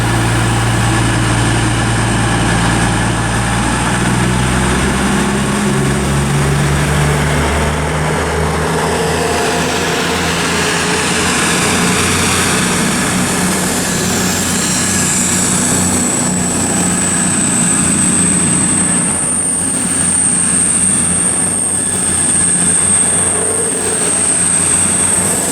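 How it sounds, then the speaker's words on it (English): An Avanti West Coast train, the 11:20 service from Edinburgh to London Euston, departs Birmingham International station on the West Coast Main Line. It gives a loud, continuous rumble with a rising high whine, close by and without talk. "departing now is going to be the 11:20 Avanti West Coast service to London Euston from Edinburgh"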